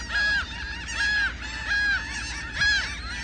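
Laughing gulls call repeatedly near a harbor, four loud, clear squawking cries spaced evenly over a steady background hum.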